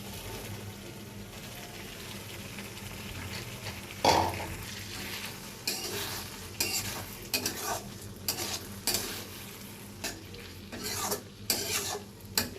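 Potatoes stirred in a pan with prawns, a soft scraping stir with faint sizzling and occasional sharp utensil knocks against the pan, close and fairly quiet.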